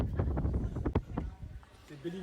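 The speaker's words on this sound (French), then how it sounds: "il y a du vent" Gusty outdoor wind buffets the microphone with low, rumbling blasts that rise and fall, while voices talk faintly underneath.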